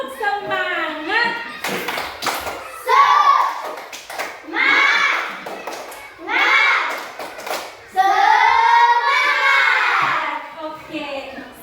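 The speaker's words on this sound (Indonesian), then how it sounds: "Tepuk semangat." Schoolchildren standing in a classroom perform a rhythmic spirit clap, bursts of patterned claps and taps alternating with their chanted voices, close and lively.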